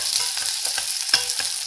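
Echinacea sizzling and being stirred in a frying pan while preparing a monkfish saltimbocca dish, a steady crackle with soft scraping stirs, no one talking.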